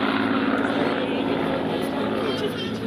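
A Spitfire propeller aircraft flies overhead at a Slovak air display, a steady loud engine drone holding level throughout with music and a commentator's voice faint underneath.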